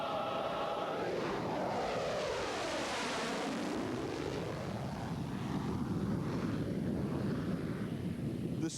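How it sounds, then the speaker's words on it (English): An F-16 fighter jet passes overhead at an Olympic opening ceremony, a faint, sweeping roar that rises and fades over several seconds above wind-like background noise, with no talking. "At the controls of that F-16 is Commander Chuck Nesby, Jr."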